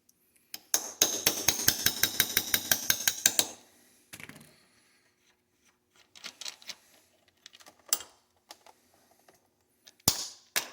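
A hammer strikes a steel punch in rapid, evenly spaced metallic taps to drive the roll pin out of an AR-15 upper receiver, loud and close, followed by scattered clinks and a few sharper single knocks.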